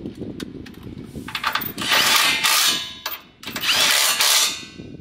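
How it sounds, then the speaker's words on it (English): Cordless impact wrench driving 19 mm bolts while fitting a side step to an INEOS Grenadier, loud hammering bursts in two long runs with clanks and shorter pulses between them. "you'll take your 19 millimeter socket on your impact there"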